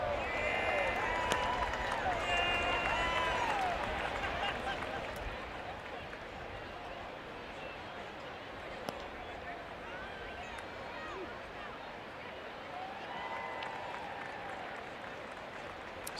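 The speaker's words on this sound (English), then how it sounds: "Sold out crowd here on this Saturday afternoon at Oracle Park." A sold-out baseball crowd at Oracle Park gives a low, spread-out murmur and brief bursts of applause, fairly quiet and distant, with faint whistles above the steady hubbub.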